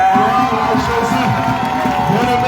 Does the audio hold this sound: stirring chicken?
no